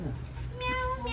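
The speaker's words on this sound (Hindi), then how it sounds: "म्याऊ म्याऊ बिल्ली करती है।" A cat meows once in a home kitchen where carrots are being washed, a short rising-falling call near the end, under a constant background hum and a voice talking.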